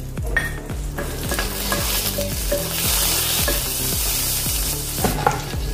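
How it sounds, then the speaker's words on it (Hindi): Half a spoon of cumin seeds sizzles in a tablespoon of hot oil with butter in a pan, making a loud, continuous close crackle and hiss. Rhythmic spoon stirs scrape through it and no one speaks. "इसमें अभी हम तेल डालेंगे 1 चम्मच, बड़े वाले चम्मच से। और इसमें अभी हम जीरा डालेंगे आधा चम्मच।"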